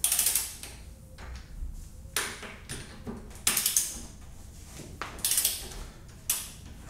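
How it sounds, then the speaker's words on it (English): Bolts on a Brembo brake caliper of a Ducati Multistrada V4S are loosened with a hand ratchet, several close bursts of clicking separated by short pauses with faint metallic handling between. "let's start loosening up these bolts right here."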